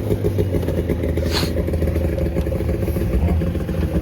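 A vintage El Tigre snowmobile engine idles close by, with a rough, steady mechanical rumble and clatter and a brief hiss near the middle, while the idle is being turned down.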